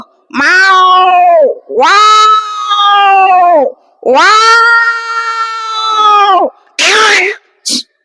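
On stage at a state-level mimicry competition, a voice imitates cats with a run of long, wailing meows, several drawn-out yowls in a row, ending in short sharp screeches like a scuffle.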